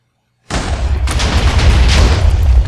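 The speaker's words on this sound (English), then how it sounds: "when they explode, they spread everywhere" A Minecraft TNT cannon explosion starts abruptly after a brief silence, then swells into a loud, sustained rumbling blast.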